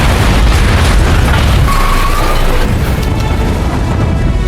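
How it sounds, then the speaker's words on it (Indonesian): A large explosion in an action film scene: a loud, deep, sustained boom with a heavy rumbling roar that fills the whole stretch without fading. "namun tiba-tiba sebuah ledakan besar mengguncang area tersebut"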